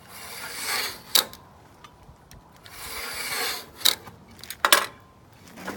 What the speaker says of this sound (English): scores with a utility knife